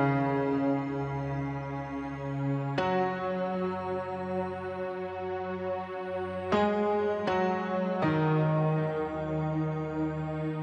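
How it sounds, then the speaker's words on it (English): Two layered piano sounds in an FL Studio beat sustain as a steady series of chords, changing roughly every few seconds at moderate volume with no voices. "two pianos in there, this one and that one. You lay them together"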